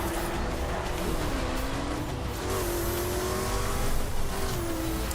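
A car engine in the racing video game The Crew revs steadily on asphalt, its loud, continuous drone rising and dipping in pitch through gear changes, with faint tire noise and no talk.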